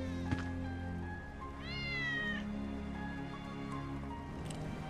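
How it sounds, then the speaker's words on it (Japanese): A cat meows once, clear and drawn out with a rising then falling pitch, over a quiet ambient game background in Final Fantasy VII Remake, followed by a faint second cry near the end. "ウェッジの猫だ。"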